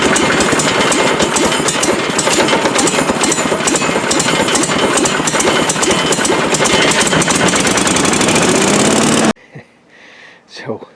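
Engine of a Z3 Hurricane started and running loud and steady with a dense, rattling mechanical roar for about nine seconds, then cutting off abruptly to near quiet.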